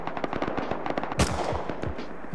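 Close, loud bursts of automatic gunfire in the survival video game Rust, with fast repeated shots and a louder crack about halfway through before the firing goes on.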